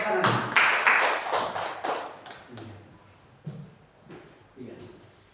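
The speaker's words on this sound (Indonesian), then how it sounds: "terima kasih tepuk tangan" Scattered clapping from a small group at a teacher-training session, with a burst of several claps up front that thins into a few separate, fairly close slaps while people talk nearby.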